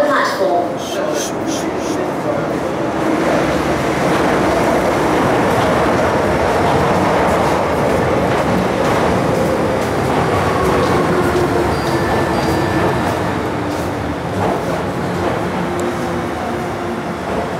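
MTR Tsuen Wan line M-Train pulling into platform 1 at Admiralty station in Hong Kong, a steady loud rumble of wheels and motors across the whole stretch with faint tonal whines, under station announcement voices.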